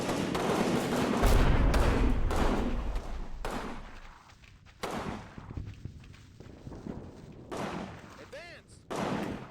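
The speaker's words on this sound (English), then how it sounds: "There's explosions going on around here. That's not me. That has to be their artillery." Enemy artillery in Combat Mission Normandy lands as repeated heavy blasts, some close and loud, others duller. Irregular gaps between impacts are filled with quieter rumbling and battle noise.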